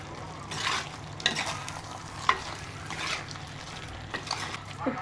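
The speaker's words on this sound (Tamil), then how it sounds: "உப்பு சேர்த்து எல்லாத்தையும் சேர்த்து இப்படி ஒரு கிண்டி விடும்." Spiced chicken curry being stirred in a pan, with repeated scraping strokes and a soft sizzle running underneath, moderately close and steady, with no talking.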